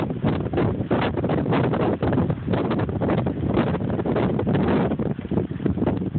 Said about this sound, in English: Pretty windy today, huh?